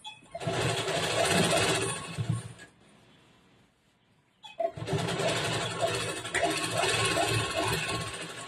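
Electric sewing machine stitching a blouse, a loud steady whirring run for about two seconds, a short pause, then a second long run, near and alone.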